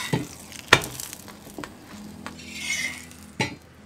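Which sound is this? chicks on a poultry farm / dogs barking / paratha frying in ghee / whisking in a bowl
paratha frying in ghee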